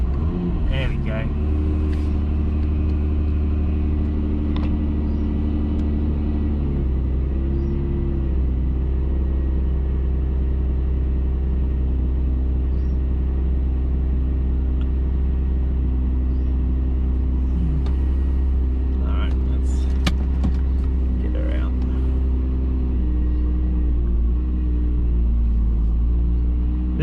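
A car engine runs continuously at a steady low rumble, close and loud, with a slight shift in pitch partway through; a person talks briefly over it.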